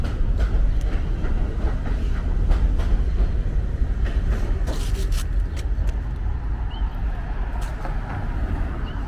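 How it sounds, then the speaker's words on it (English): A train leaving a Brooklyn station rolls on with a steady low rumble, with occasional clanks and squeaks over the drone of rail noise. "Trains taking a long time to leave for a station that has so few customers."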